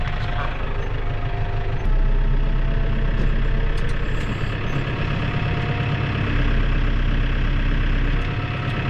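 A tractor engine idles steadily with a topper mower attached, a continuous low rumble that runs loud and unbroken throughout, with no speech over it.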